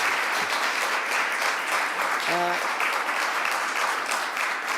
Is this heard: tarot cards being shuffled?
no